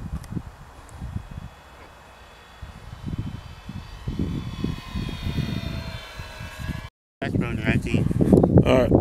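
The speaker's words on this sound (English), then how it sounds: "It is Mason's first time flying a P-51." An E-flite P-51 radio-controlled model airplane flies overhead, its electric motor a thin rising and falling whine with a Doppler sweep, under frequent outdoor voices and wind rustle, with louder handling noise near the end.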